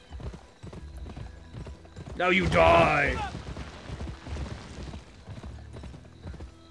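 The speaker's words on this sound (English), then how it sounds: "It's my job to crush buffalo with my horse hooves." Horse hooves clip-clop in the video game Gun, a rapid galloping patter running under gunfire and a shouted voice from the game.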